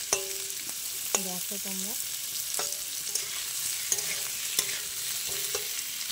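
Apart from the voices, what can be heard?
frying onions in pan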